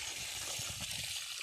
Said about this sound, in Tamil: கடைசியாக ஒரு பக்கெட் தண்ணி ஊற்றிடலாம்.